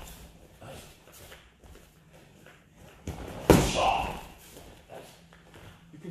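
A back spinning kick slams into a training pad with one loud, solid thud near the middle, while someone talks before and after the impact.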